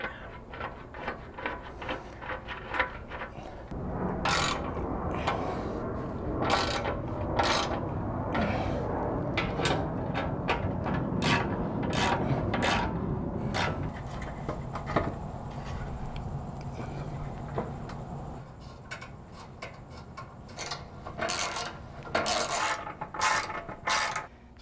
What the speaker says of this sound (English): now I'm going to be tightening these bolts on